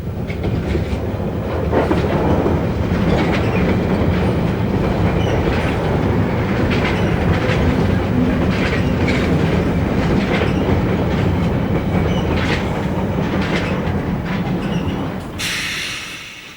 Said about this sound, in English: The oldest trains on the entire London Underground system are the Northern Line's 59 stock.